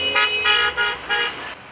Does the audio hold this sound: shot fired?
no